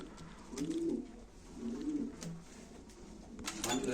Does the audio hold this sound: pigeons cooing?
yes